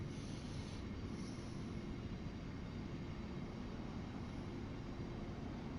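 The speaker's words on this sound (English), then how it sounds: "9041, named Pete Waterman. OBE at Platform 12 at Crewe." Electric locomotive 9041 stands at Platform 12 at Crewe in Train Sim World 4, giving a constant low rumbling drone with a faint high whine throughout, steady and unbroken.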